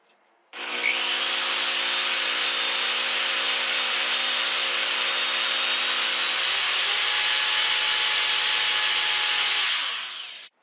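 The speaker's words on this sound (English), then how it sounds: "I hold the drill on the table and the dowel in my hand and just gently work it onto the drill bit" A steady, whirring drill held on a table runs for about ten seconds with a rough wooden rubbing and grinding over it as a hand-held wooden dowel is worked onto the spinning bit, close up and fairly loud, then stops.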